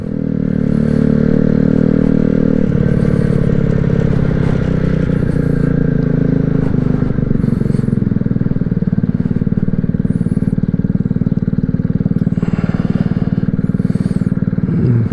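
A small Amstar Nostalgia 50cc motorbike being ridden on roads in New Jersey, its engine a loud, continuous low drone that holds steady throughout with occasional clatter and wind.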